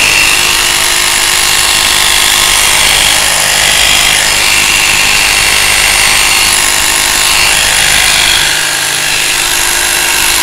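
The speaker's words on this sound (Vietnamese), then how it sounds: "Cây cưa kiếm này 2712 thân máy" A Milwaukee 2719 reciprocating saw running, a loud, close, continuous buzzing rasp that holds steady with no talk.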